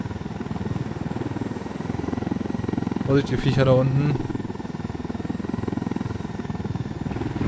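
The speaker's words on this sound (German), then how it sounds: "Steht da wieder ein kleiner Hubschrauber, das finde ich gut." Small helicopter in the video game Ghost Recon Wildlands, its rotor chopping in a steady fast rhythm throughout, with someone speaking briefly over it midway.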